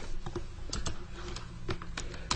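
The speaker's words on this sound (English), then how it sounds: "So I'm just going to key in my cost center number over here, 10101. Press enter in your keyboard," A computer keyboard is tapped up close as a number is keyed in and enter is pressed: a quick run of about eight crisp clicks with short, uneven gaps and no talking.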